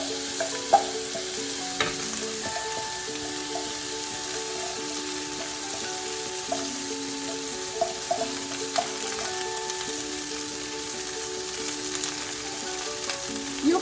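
Dal lentils roasting in a pan give a soft, even sizzle with a faint continuous hum and occasional light ticks and stirring scrapes, steady throughout and free of speech.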